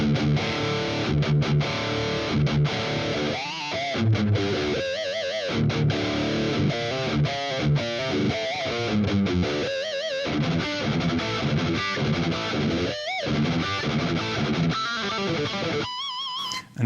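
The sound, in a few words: distorted electric guitar riff, chorus off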